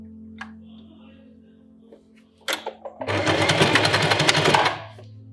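Sewing machine running one quick row of stitching along a fabric edge, loud and near in a dense rapid burst lasting about a second and a half, after a few clicks and handling sounds over a low hum.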